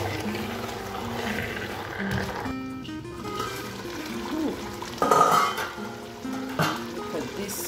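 Eru being stirred in a pot with snails, spinach and oil, giving soft wet scraping and sloshing with a louder stir near the middle, faint cooking sizzle underneath and no speech.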